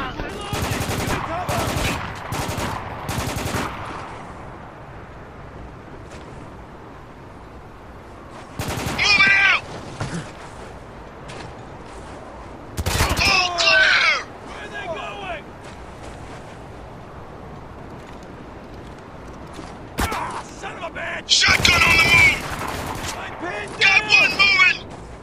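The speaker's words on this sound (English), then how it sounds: "Under heavy fire!" Heavy gunfire in the war shooter Spec Ops: The Line comes in loud bursts of automatic fire around 1–4 s, 9–10 s, 13–14 s and 21–25 s, separated by quieter stretches with shouting voices.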